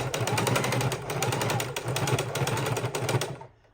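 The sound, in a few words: sewing machine stitching fabric bowl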